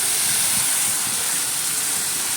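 Mustard and dried chili paste thinned with water hits hot oil for a prawn malai curry, giving a loud, steady, close sizzling hiss that holds without a break. No one talks.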